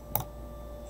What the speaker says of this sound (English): That's me single clicking.